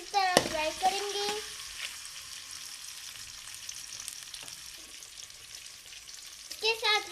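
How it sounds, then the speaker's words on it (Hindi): Onions frying in half a cup of oil in a kadhai, with a loud sizzle burst near the start that settles into a steady low crackle, a few stirring scrapes, and a brief sizzling flare near the end. "अब हम इसमें प्याज डालेंगे और प्याज को हम अच्छी तरह फ्राई करेंगे।"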